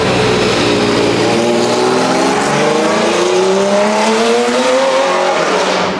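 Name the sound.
race car driving on track at a track day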